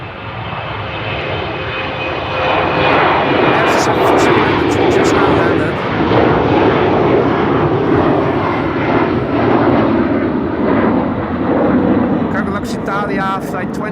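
A KLM passenger airliner at Amsterdam Schiphol Airport roars steadily and loudly for the whole stretch, a broad engine rumble that holds level with a brief quieter dip, with a voice speaking over it.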